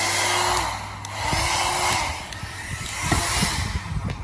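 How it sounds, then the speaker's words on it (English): A hair dryer blows with a steady airy whoosh that rises and falls as it moves, close by, with a few faint clicks. "and hair dryer."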